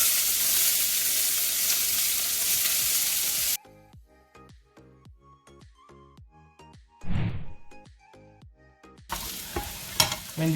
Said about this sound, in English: I'm gonna saute some onions.